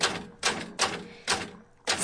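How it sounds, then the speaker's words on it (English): A manual typewriter clacks in five short, evenly spaced bursts of keystrokes, close and crisp, with a sheet of notepaper rolled in. "She rolls a sheet of gaudy notepaper into her typewriter."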